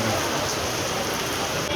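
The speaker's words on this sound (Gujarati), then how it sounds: "બહાર વરસાદ પણ ચાલુ થઈ ગયો" Rain falling outside a mall, a steady dense hiss of drops that runs through the whole short stretch without a break.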